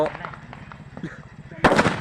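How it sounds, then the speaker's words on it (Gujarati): A Diwali firecracker goes off with one loud, sharp bang late in the moment, after scattered voices and excited chatter from people nearby. "ઓહો ફૂટો છે લે ધડાકે ફૂટો"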